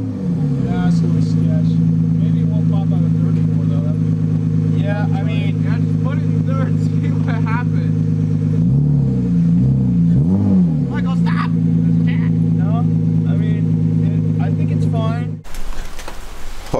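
Steady, loud engine drone from a BMW E36 on a test drive after a short shifter fix, with a wavering rev change midway and a sudden drop near the end. People talk over the engine noise throughout.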